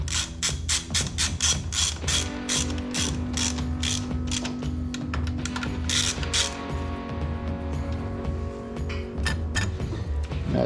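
Ratchet wrench snugging up the bolts of a carbon fibre heat shield on a Ducati Panigale V4, with rapid close clicking bursts of the pawl repeating throughout, some stretches faster and denser than others.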